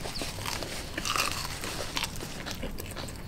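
Bites into crispy McDonald's fried chicken skin make close, crackly crunches followed by soft chewing, loud against quiet surroundings.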